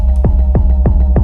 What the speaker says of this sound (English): If you have it with the feedback up, and there'll be doubles like you would get with any other delay